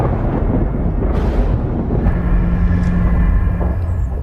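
Deep, heavy thunder from a storm rumbles steadily throughout, a thick low roar heard from inside a flying airplane cabin, with a faint steady drone behind it.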